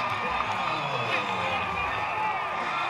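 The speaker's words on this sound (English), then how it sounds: "Home crowd growing crazy here for New Mexico" The New Mexico home crowd roars after a pick-six touchdown at a 2019 college football game against NMSU, a steady, dense stadium cheer with a commentator talking over it.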